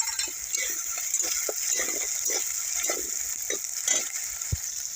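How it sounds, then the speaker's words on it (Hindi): Steady sizzling of ginger, garlic and green chili paste frying in a pan, with repeated scraping and stirring strokes throughout; no talking. "अदरक, लहसुन, हरी मिर्च का जो पेस्ट था वो भी अच्छी तरह से फ्राई हो गई है"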